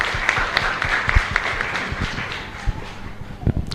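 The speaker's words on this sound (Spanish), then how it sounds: "Fuerte aplauso entonces para nuestra comunidad" A church congregation claps during Mass at Parroquia San Miguel Arcángel in San Lorenzo, a room-filling patter of hands with scattered louder claps and a few voices mixed in.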